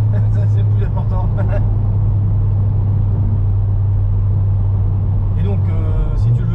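A Ford Focus RS MK2 rally-style car with 349 hp and 519 Nm accelerates in fifth gear, a loud steady engine drone heard from inside the car, with a voice talking briefly at the start and end.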